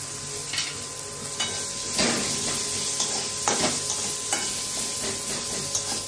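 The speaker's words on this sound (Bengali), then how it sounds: "এই মাছের তেলে দিয়ে দিচ্ছি পাঁচফোড়ন, দিয়ে দিলাম পেঁয়াজগুলো কেটে রেখেছি।" Panch phoron and chopped onions sizzle and fry in leftover fish oil, a steady close crackling hiss with occasional stirring scrapes and louder bursts throughout.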